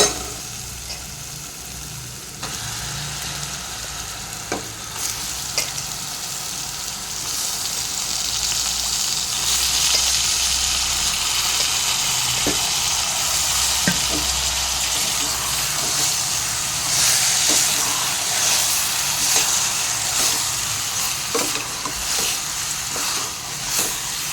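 Mutton pieces frying for a curry in a pan, a loud steady hiss and sizzle that swells after the first few seconds and keeps going with faint crackles and no talk.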